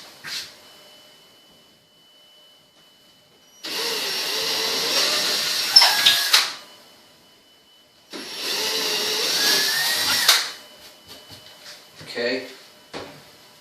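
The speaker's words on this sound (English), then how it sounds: "Your drill bit, you want to be slightly smaller than your drywall anchor inserts" A power drill bores a small pilot hole in bathroom drywall for an anchor, running in two steady bursts of about three seconds each, followed by a few faint clicks and taps.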